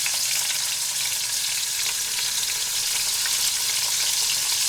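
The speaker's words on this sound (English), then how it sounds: "I'm going to brown this on all sides" Chuck roast browning in a hot pan gives a steady, loud sizzle and crackle of frying meat, continuous throughout with no talking.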